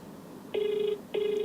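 A telephone call ringing out on a live line, two steady electronic ring tones each lasting about half a second with a short gap between, clear and close with no talking over them.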